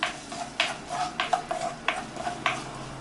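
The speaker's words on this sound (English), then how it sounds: "right now in the hot pan, I'm going to add olive oil. And then add shallot inside." Shallot frying in hot olive oil in a pan, with a steady soft sizzle under repeated sharp scraping and stirring clacks of a utensil against the pan, roughly one every half second.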